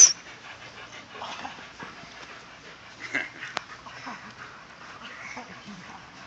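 A black dog plays with other dogs, its quick panting breaths soft and steady throughout, with faint scuffling and a brief sharp knock midway.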